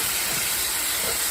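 Smoked meat and vegetables sizzling together in a skillet, a steady, dense, loud hiss with no pauses, close, over a low background rumble, no voices.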